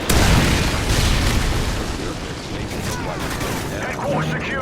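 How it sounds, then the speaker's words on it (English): Loud, booming blast from a Predator missile strike in a multiplayer shooter game, a heavy rumbling explosion that rolls on and decays over several seconds, with smaller crackling bursts and game voice lines mixed underneath. "Friendly Predator missile inbound"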